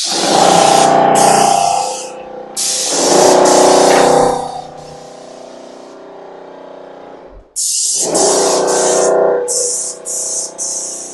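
A Wagner SprayPack 18V cordless paint sprayer gives a close, loud hissing spray in bursts of a couple of seconds each, separated by short pauses with a motor hum underneath.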